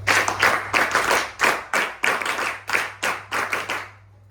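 An NCC group claps in short, even bursts at a felicitation ceremony, about ten rounds of rhythmic clapping with brief gaps, fairly close and loud, ending in quiet.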